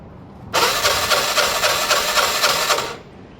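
A 125cc Piaggio/Gilera/Vespa scooter engine catches and runs roughly for a couple of seconds with a buzzy, pulsing drone, then cuts out abruptly.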